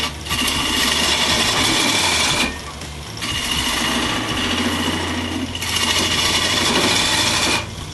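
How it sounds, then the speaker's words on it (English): Woodturning roughing gouge held against a powered sharpening grinder, a steady close whirring grind in three long passes separated by brief breaks. "I sharpen my roughing gouge."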